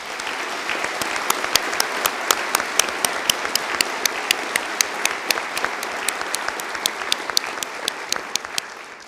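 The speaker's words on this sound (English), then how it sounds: "could we give a round of applause to Brona Clifford and the conferring team?" Applause at a university conferring ceremony rises loud and sustained, with many hands clapping and sharp individual claps standing out near the microphone throughout.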